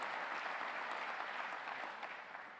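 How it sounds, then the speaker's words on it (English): An audience at a city's State of the City address gives a sustained round of applause for its senators, a dense, even wash of many hands clapping that tapers slightly toward the end. "We can give our senators a round of applause."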